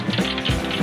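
Hot oil in a pan frying KFC-style chicken gives a brief, steady crackling hiss, close up with no voices.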